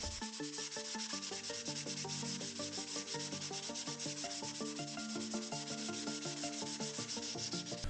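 Hand sanding of body sections for a Ford GT40 Mk1 model build: steady, continuous abrasive rubbing strokes, close and even, with no voices over it.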